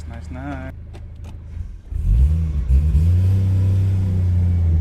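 A Nissan 240SX engine cranks and fires up after months sitting, catching into a loud rumbling idle that settles steady and close, with a person talking briefly before the start.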